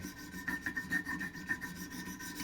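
A knife being sharpened on Wicked Edge Pro-Pack III abrasive stones, with quiet, rhythmic rasping strokes repeating in a steady back-and-forth pattern.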